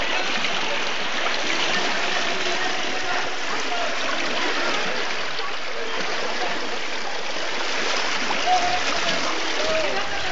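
Fast floodwater rushes and splashes without a break, a steady broad roar that fills the scene, with faint voices now and then under the flow.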